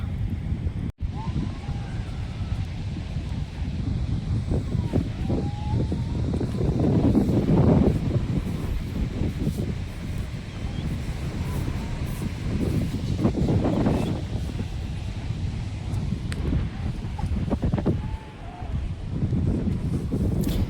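Wind buffets the microphone outdoors at a temple, rumbling in gusts that swell and fade, with a few faint voices in the background.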